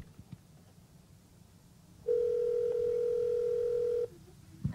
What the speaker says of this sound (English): It's ringing right now.